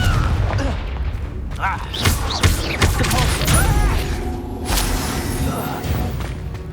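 Spell-casting effects from the Hogwarts Legacy video game, a dense run of booms, crashes and whooshing blasts layered with combat noise, loud throughout while voices call out incantations over the action.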